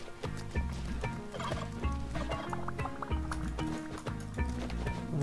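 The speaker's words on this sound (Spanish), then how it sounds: "agarré una de estas horripilantes gallinas, pollos, lo que sea" Turkey gobbling from the Spelunky 2 video game, a loud repeated gobble over a dense, steady game soundtrack with busy low-end music throughout.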